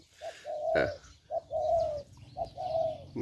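Spotted dove cooing in a series of three soft, hollow phrases, each with a short lead note and a longer drawn-out coo, heard close and clear with no talk.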